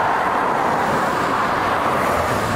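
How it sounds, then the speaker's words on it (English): A procession of tow trucks, cars and motorcycles rolling past at a memorial tribute, a steady, loud roadway rumble of engines and tires with no break across the moment. "One by one, tow trucks, cars, and motorcycles rode in procession"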